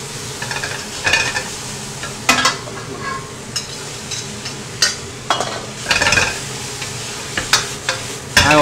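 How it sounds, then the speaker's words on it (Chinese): French beans stir-fry with soybean paste in a wok, with a loud continuous sizzle under repeated scraping and clanking strokes of a spatula, close and busy throughout. "来炒一炒下"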